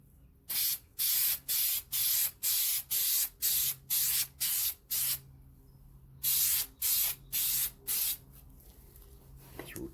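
Clear coat is sprayed onto a part in a run of short, even aerosol bursts, each a sharp hiss about half a second long, with a brief pause partway through and then more bursts, close and clear in a quiet room.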